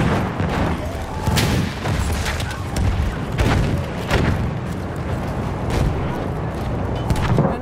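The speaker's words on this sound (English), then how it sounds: "Machine gun right there." Gunfire and heavy booms from a Battlefield 1 battle, with machine gun shots cracking irregularly amid dense, rumbling explosions that continue loudly throughout.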